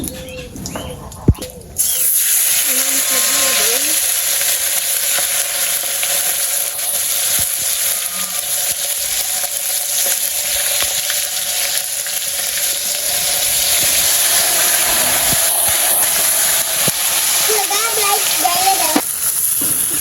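Bay leaf and cumin seeds sizzle and crackle loudly and steadily in hot oil while a meat curry is started, close up and continuous, with a voice talking over it at times.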